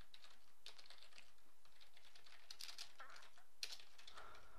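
Code is typed on a computer keyboard in quick, irregular bursts of soft key clicks, close and fairly faint, with no voice over them.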